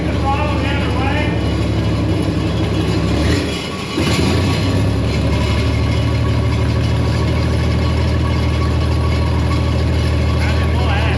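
An old barn-find Gleaner G combine's engine runs with a loud, rough, continuous rumble, briefly dipping for a moment before carrying on steadily up close.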